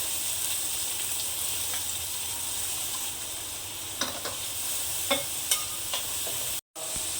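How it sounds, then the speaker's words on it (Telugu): Onion frying in oil left over from frying peanuts, for a Telugu dondakaya (ivy gourd) fry: a steady close sizzle with a few soft stirring clinks near the end and a brief dropout. "ఇందాక ఫ్రై చేసుకున్న దాంట్లో కొంచెం ఆయిల్ వేసుకొని ఉల్లిపాయ ఫ్రై చేసుకోవాలి"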